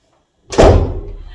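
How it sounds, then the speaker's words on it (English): An indoor door closing with a single solid thud, close and loud, followed by a brief low rumble as it settles. "Let me just close this door."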